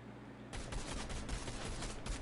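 Rapid automatic gunfire in a multiplayer shooter game breaks out suddenly after a quiet moment and continues as a dense, close fusillade.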